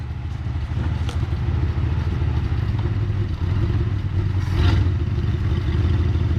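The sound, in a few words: 1963 Ford Fairlane 500 with 260 engine driving off in gear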